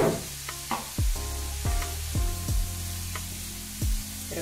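Chopped leek sizzling as it fries in a pan, a close, steady crackle broken by several sharp clatters of a utensil against the pan, no voices.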